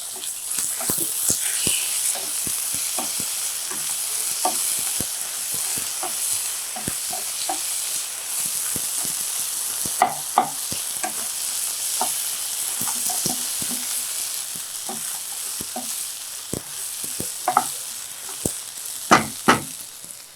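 Ginger-garlic paste frying in hot oil in a pan for a white pea kurma, a steady sizzle with scattered clicks and scrapes of a spoon stirring, close and continuous with no talking.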